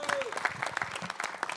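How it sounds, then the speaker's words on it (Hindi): Applause from a press conference audience, dense clapping at moderate volume with some crowd noise and brief voice sounds mixed in, sustained throughout. "एक बार जोरदार तालियां इनके लिए"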